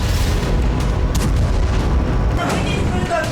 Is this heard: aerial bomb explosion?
yes